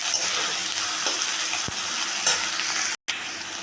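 Ginger paste and chopped tomato fry in a pan, an even, close hissing sizzle with faint stirring scrapes, briefly cutting out to silence just before the end.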